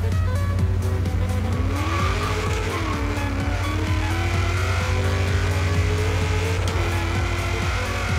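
A 962-horsepower Ford Deluxe Coupe launches in a Forza Horizon 3 drag race, its engine roaring and revving through gear changes while the tires squeal continuously and loudly for the whole stretch.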